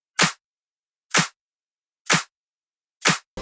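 Four crisp electronic clap samples for a future house beat, sounding alone at a steady pace about one second apart, each a short bright snap with a brief tail and nothing in between.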